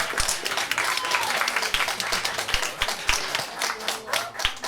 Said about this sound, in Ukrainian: Так що під ваші оплески, доброго вечора ще раз.